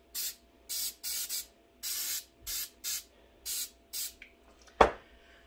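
Cooking spray hissing onto silicone muffin liners for egg muffins: about eight short, sharp spray bursts in a quick, even rhythm, followed by a single knock as the can is set down.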